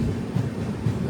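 The Garib Rath 12201 LTT–Ernakulam train at Kozhikode station gives a low, steady rumble with a couple of dull wheel thumps, heard close and briefly.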